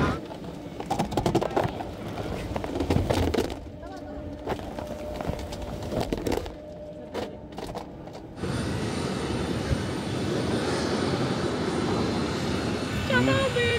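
An airliner's engines roar steadily at an airport while passengers board for a flight to Wrocław; voices and bustle come first, then a loud, continuous engine drone takes over.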